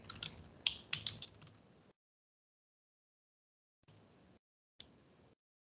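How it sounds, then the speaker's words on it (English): Close computer keyboard typing: a quick run of crisp key clicks for about two seconds, then silence broken by two brief, faint bursts of keystrokes. "I'll type it in there."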